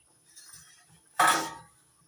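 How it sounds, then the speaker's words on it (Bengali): Pot lid lifted off a pan of boiled taro roots, giving a single clear metallic clink and rattle with a brief ringing tail after faint handling sounds, and no talking. "এবার ঢাকনা খুলে নিচ্ছি।"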